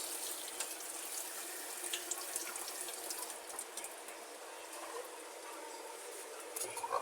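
Pumpkin being washed under a running kitchen tap, a steady hissing stream of water pouring and splattering in a sink, fairly close and continuous, with no talk.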